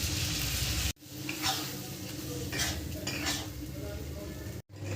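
Doi potol chingri curry simmers and sizzles in its yogurt mixture, with a spoon stirring and scraping the pan in short bursts and two brief silent gaps.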